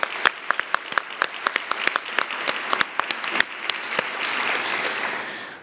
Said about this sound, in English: if we could just express our thanks to them by a round of applause